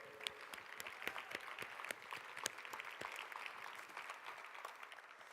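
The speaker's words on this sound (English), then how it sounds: "Big round of applause for those." Applause from a large conference audience honoring the event's volunteers, steady and dense clapping throughout with a few sharper claps standing out, filling a big hall.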